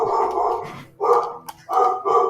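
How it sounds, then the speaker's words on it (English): A dog barks in three loud bursts of rough, repeated woofs with short gaps between, close to the microphone. "Of course my dog is barking."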